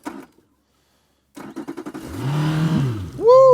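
A boat motor on a catfishing trip starting up and then revving with the throttle up, a short cranking stutter building into a loud sustained rising whine close by, no talking.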